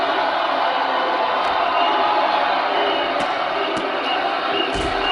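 Wrestling arena crowd at a multi-federation show: a loud, steady roar of cheering and shouting fills the hall throughout, with a few sharp thuds or claps cutting through, close and continuous.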